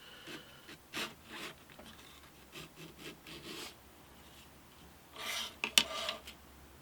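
Wood on an acoustic guitar joint edge is sanded with 150 grit paper in a series of short, separate rasping strokes, faint and close, with brief pauses between passes and a few louder scrapes near the end.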